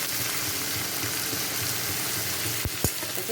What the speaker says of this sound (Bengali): এটাকে ভালো করে এখন ভেজে নেব, খুব ভালো করে আলু বেগুন এটাকে ভেজে নেব